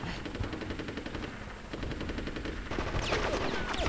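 Rapid automatic gunfire in the video game Conker's Bad Fur Day, a dense rattling stream of shots that grows louder and busier toward the end, with sharper sweeping effects layered over the final seconds.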